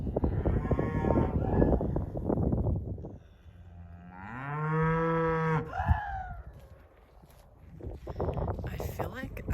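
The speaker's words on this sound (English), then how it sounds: "I feel like I've never heard a cow moo before" A cow gives one long, deep, menacing moo close by on a New Mexico road trip, with people talking before and after it.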